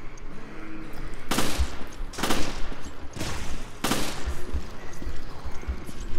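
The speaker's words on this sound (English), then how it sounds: "Stop shooting me, you bastard." Repeated bursts of gunfire from the video game Resident Evil Revelations on a ship's promenade deck, four loud rattling volleys about a second long each, separated by short gaps over a steady game background.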